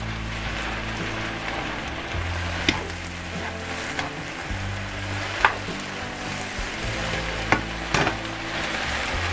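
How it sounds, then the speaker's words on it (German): Sliced zucchini and bell peppers fry in a pan with a steady close sizzle, punctuated by a few sharp crackles and occasional stirring scrapes, with no voices. "Das lassen wir erstmal einen kleinen Moment noch braten"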